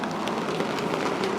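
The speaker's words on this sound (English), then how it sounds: "it is raining out here, so things are getting wet" Steady rain falls outdoors at a Halloween haunted tent display, a dense, even hiss of drops pattering on surfaces close by with no pauses and no voices.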